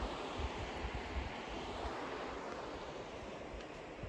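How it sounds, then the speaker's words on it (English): The Sugar River flows through the middle of Newport, New Hampshire, near an abandoned woolen mill, a steady broadband rushing wash of water with some wind rumble, constant and fairly loud, with no talking. "The beautiful Sugar River, right in the middle of Newport."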